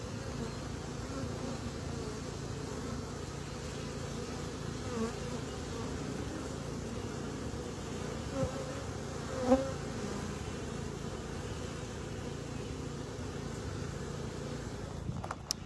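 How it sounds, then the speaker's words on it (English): A swarm of European honey bees drones in a steady, dense buzz that fills the space continuously, with a few louder passes up close and faint traffic far behind. "these are probably European bees"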